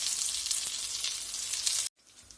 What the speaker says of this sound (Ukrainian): Ну, отак я вже перевернула другий і потихеньку їх смажу.